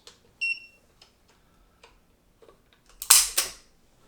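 Taurus Raging Bull .44 Magnum revolver being dry-fired, a few sharp, close metallic clicks and ticks scattered through a quiet background, ending in a louder snapping burst near the end.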